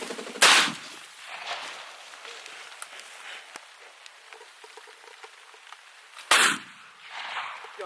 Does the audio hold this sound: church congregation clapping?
no